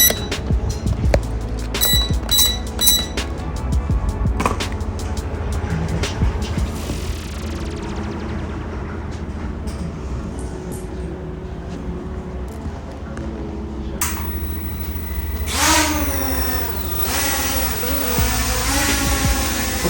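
The brushless motors of a JJRC quadcopter drone hum in flight: a layered whirring drone that shifts pitch and swells into a wavering, rising whine near the end, close and fairly loud.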